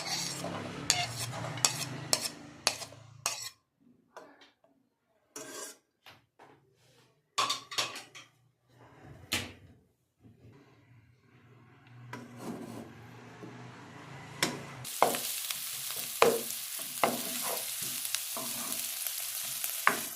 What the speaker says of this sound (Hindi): प्याज को हमने ब्राउन या डार्क ब्राउन नहीं करना, प्याज को हमें सोते करना है।